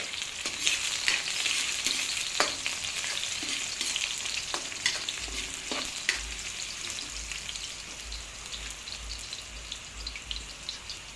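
Chopped garlic frying in a pan for buttered shrimp, a steady close sizzle with scattered crackles and a few stirring knocks, no talk.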